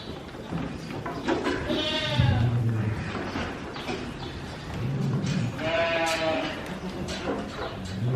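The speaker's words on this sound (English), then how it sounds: "they're bringing in the animals, Sorting them out sorting them out. from goats and sheep." Goats and sheep at a livestock auction give two loud, wavering bleats several seconds apart amid a busy barn background of shuffling animals and distant voices.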